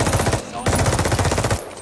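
Fast automatic gunfire in a Team Deathmatch video game, two loud close bursts of rapid shots split by a short pause.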